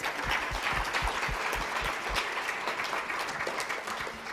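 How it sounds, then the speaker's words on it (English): An audience at a celebration event applauds student performers, steady dense clapping from a crowd with a few distinct nearby claps, continuous throughout at moderate volume. "let's give one round of applause to all our student performers."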